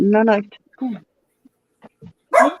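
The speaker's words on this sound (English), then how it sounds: "That was a dog." A dog gives a few short barks between bursts of nearby talk in a home, with one sharper bark near the end.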